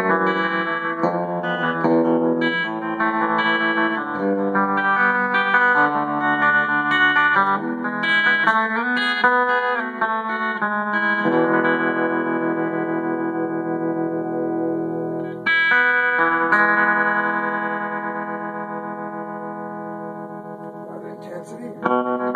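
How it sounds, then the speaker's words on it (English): Electric guitar played through a 1967 Fender Vegas amplifier with its original spring tank reverb, sustained chords and notes ringing out with a wet, lingering tail, loud and steady throughout with no talking. "Listen to this reverb, that good old Fender tank reverb."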